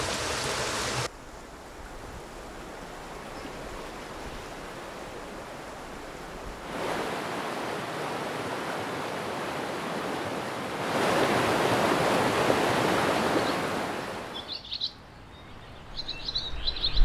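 A river flows beside a small beach near a little bridge on the road to Piana in Corsica, a steady broadband rushing of water that swells and shifts in loudness, with faint bird calls near the end.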